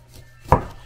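A kitchen knife cuts once through a tankan citrus fruit. It makes a single sharp, close chop in an otherwise quiet room.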